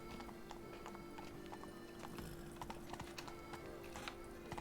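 Roach, a horse in The Witcher 3, trots along with a steady clip-clop of hooves and occasional snorts and whinnies, set against a continuous ambient game hum.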